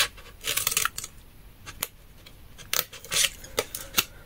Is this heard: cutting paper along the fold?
yes